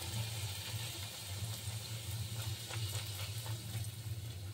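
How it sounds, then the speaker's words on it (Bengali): Luchi, puffed wheat flatbreads, deep-frying in a pan of oil, giving a steady broadband sizzle over a low hum, with no talk. "যেগুলো ভাজতে বাকি আছে সেগুলো এখন ভাজা হচ্ছে"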